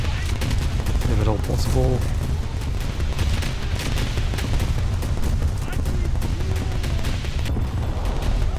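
Destroyer gun turrets fire in a naval video game, with dense repeated booming shots over a constant rumbling battle bed while a player talks over it.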